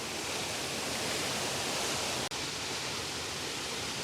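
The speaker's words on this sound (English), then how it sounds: "Some of the waterfalls from down here and all around this location are just beautiful" A forest waterfall roars as a steady, dense wash of broadband rushing water, loud and close, with a single brief dropout partway through and no voices.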